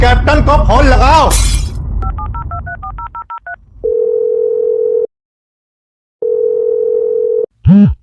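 Touch-tone keypad beeps in a quick sequence, then a steady telephone dial tone sounds twice with a pause between, after a voice at the start.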